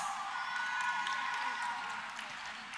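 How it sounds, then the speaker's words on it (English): A crowd of listeners at a school event applauds students with cheering and whoops, a continuous bright wash of clapping over the whole span, with voices mixed in. "Give them a big round of applause."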